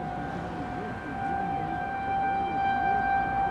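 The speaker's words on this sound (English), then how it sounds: "Tornado sirens in the distance." Distant tornado sirens in Alabama during severe weather wail in slow rising and falling sweeps, steady tones hanging faintly over a quiet outdoor background.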